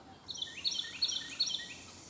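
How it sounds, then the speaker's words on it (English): Faint, high bird chirps repeat in quick little bursts against a quiet outdoor background. "listen to them birds"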